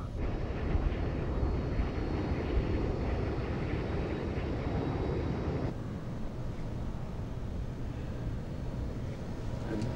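A movie airplane roars down the runway on its takeoff run, a loud, steady engine rumble with wind noise. Partway through, the sound drops to a slightly quieter, duller drone.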